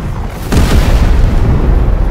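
A deep booming explosion in the video game Teardown erupts suddenly and rolls on with a loud, sustained rumble, with no voices.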